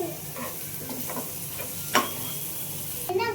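Coriander powder and salt are stirred into a sizzling masala in a pan, with a spoon scraping in short strokes over a steady frying hiss and a sharper clack near the end.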